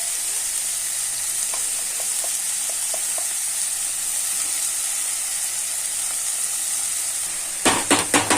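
Sautéing in a pan just after salt is added, a steady close frying sizzle running throughout with a few soft stirring taps, and louder scraping stir strokes near the end.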